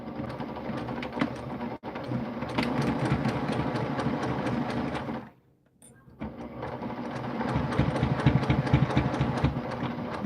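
A sewing machine runs a quarter-inch seam for a pin cushion, humming steadily and close by. It stops briefly midway, then resumes and stitches on for several more seconds.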